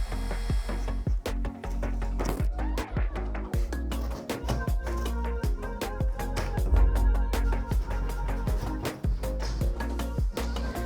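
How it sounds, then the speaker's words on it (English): A drill with a spade bit bores fixture holes through Kerdi board for a waterproof shower, giving rapid clicking, rattling and grinding bursts that run continuously and close, with no talk. "The rest of the fixtures we're just cutting out with a spade bit."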